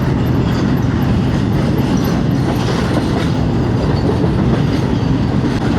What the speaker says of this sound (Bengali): ট্রেনের আওয়াজটা শোনো কতটা সুন্দর লাগছে।